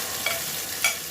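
A spiced mixture sizzles in hot oil for chicken qeema macaroni, a steady loud fry with two brief scraping stirs of the spoon, heard alone.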